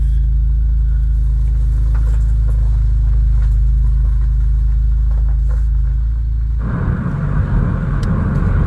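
A second-generation Chevrolet Cruze with a boosted engine and a new wastegate actuator, heard from inside with a steady low drone that shifts to a louder, broader engine roar as it drives off and pulls harder.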